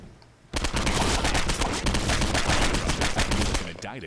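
Dense rapid gunfire from the video game Postal 2 blasts out after a half-second lull, a loud sustained burst of overlapping automatic shots with heavy low thump that rattles on for about three seconds before cutting off.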